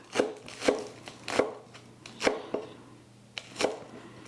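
A kitchen knife chops green onions into little rounds on a cutting board, making about eight crisp, close knocks at an uneven, unhurried pace.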